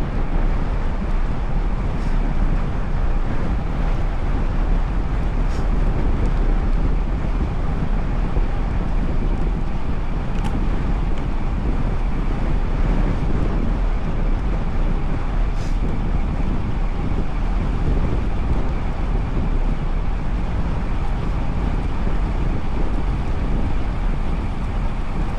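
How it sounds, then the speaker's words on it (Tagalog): Heavy wind roars steadily across the microphone on a long bike ride near a bridge, a constant, loud, unbroken rush with no pauses, joined by faint passing traffic. "Grabe na naman ang hangin ngayon."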